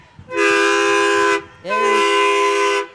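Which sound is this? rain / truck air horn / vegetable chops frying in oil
truck air horn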